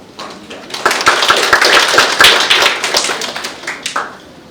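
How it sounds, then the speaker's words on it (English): An audience at a panel talk on AI medical devices in Malaysia applauds, a dense burst of many hands clapping that swells quickly, holds for a few seconds and tapers off. "So, a round of applause for Puan."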